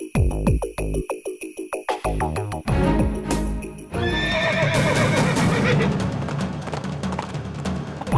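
Horses behind a police station in a Hindi TV comedy scene give loud, repeated neighs and whinnies, followed by a busy stretch of clip-clopping hooves with no voices.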